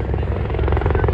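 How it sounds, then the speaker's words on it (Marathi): Helicopter at an army open day in Pune, its steady rotor chop loud and close and filling the whole moment with a continuous rhythmic beat. "हेलिकॉप्टर"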